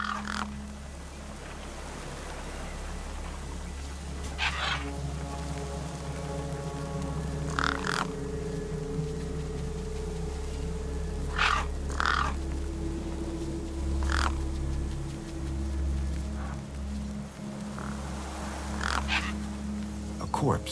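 Crows caw loudly in repeated harsh bursts over a corpse in the video game Beyond a Steel Sky, spaced across a steady low ambient drone.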